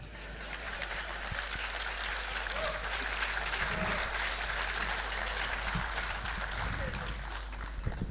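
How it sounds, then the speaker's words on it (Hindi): Audience clapping in a hall, a steady dense wash of applause that holds at an even level for the whole stretch, with no voices standing out above it. "आप लोगों ने तालियां बजाई"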